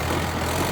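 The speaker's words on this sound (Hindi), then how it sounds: "अभी पहला वाला ट्रैक्टर पहुंच चुका है।" A tractor engine runs steadily at close range on a rough village track while hauling bamboo, a continuous low rumble with a mid-range drone and no break across the short stretch.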